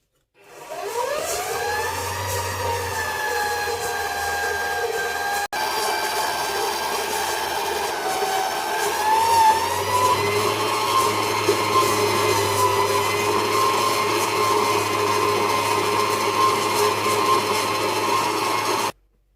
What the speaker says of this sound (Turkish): Esmer şekerimizi de boşaltıp karıştırıyoruz